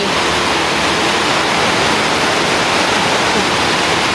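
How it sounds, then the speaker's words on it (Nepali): Heavy rain in Kathmandu pours down beside a flooding stream, a loud, dense and unbroken wash of noise from start to finish with no voices. "पानी पर्यो गाइस काठमाडौँमा।"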